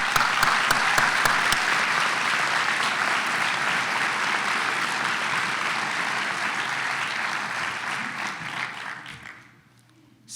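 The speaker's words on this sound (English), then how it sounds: "give a round of applause to recognize the important people that supported each of us" Sustained applause from a graduation ceremony audience, dense and loud with crisp claps at first, holding steady for several seconds before fading away near the end.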